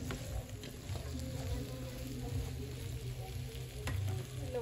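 Chiles being stirred and fried in a pan, a steady close sizzle with soft scraping from the stirring running throughout, no voices.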